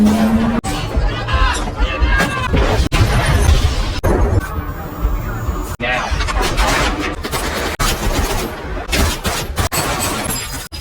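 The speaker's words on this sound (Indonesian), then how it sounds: "Di tengah baku tembak itu" Chaotic shootout with gunfire, grenade blasts and shattering debris, sharp loud cracks and crashes scattered through dense noise, with voices and shouting mixed in.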